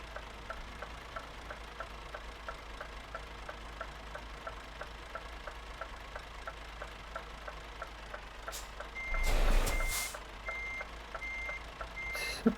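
A Scania R500 truck reverses into a loading bay in Euro Truck Simulator 2, its backup alarm beeping in a steady, regular rhythm over a low engine hum, with a brief louder mechanical burst near the end.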